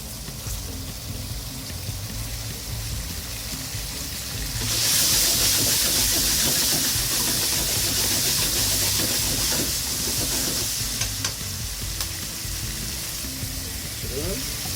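Bacon frying with garlic and chili in a pan gives a loud, steady sizzle that swells as it is stirred, close and continuous, with brief talk over it.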